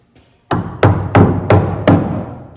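Five firm, evenly spaced taps of a soft-faced hammer striking metal on car rear leaf-spring suspension, each a dull thump with a short ring, close by.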